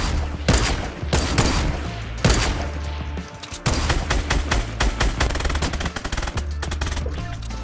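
Video game gunfire, loud rapid bursts of shots in quick succession, some sustained like machine-gun fire, with short pauses between the volleys and no talk.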